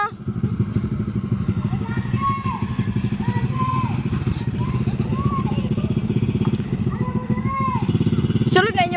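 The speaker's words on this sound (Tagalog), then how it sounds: "Isulod ninyo motor dito." A motorcycle engine idles and putters steadily nearby while people talk over it, with a brief high-pitched squeak near the end.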